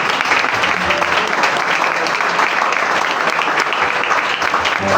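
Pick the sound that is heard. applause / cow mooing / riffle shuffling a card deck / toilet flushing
applause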